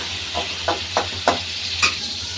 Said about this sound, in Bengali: এখন এটা একটু কিছুক্ষণ কাঁচা গন্ধ যাওয়া পর্যন্ত নেড়ে চেড়ে নেব